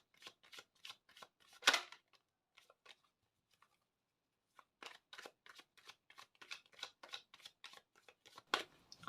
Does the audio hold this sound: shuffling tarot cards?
yes